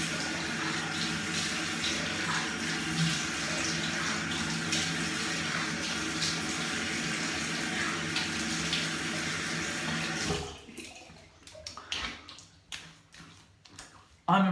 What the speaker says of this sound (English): now just cool off with some cold water